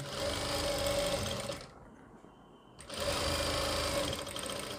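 Sewing machine stitching a kurti seam, a loud rapid whirring run that pauses briefly in the middle, then starts again and continues steadily.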